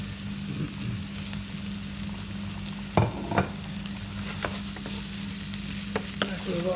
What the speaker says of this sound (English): I'm going to add in the pepper and fry that for a few more minutes.